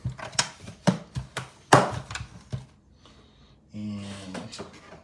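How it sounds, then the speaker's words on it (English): A die cutting machine cranked by hand for card making gives a run of clicking, ratcheting mechanical knocks in uneven rhythm, followed by a steadier grinding roll near the end, close and moderately loud. "we're gonna take our die machine out again"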